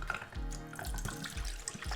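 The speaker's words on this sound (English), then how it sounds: "you're gonna grab your coconut cream and pour it into your blender." Coconut cream is poured from a can into a blender in a home kitchen, a close, gurgling liquid pour with low glugs and splashes running throughout.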